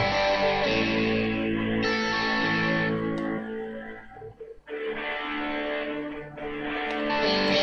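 Distorted electric guitar picking a rolling arpeggio, washed in reverb, with a brief thinner passage midway before the full sound returns.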